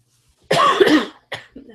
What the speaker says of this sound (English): I'm just coughing over here.